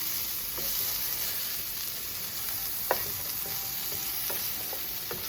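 Coconut curry and seasoning cook in a pan with a steady, close sizzle, broken by occasional soft scrapes and taps from stirring.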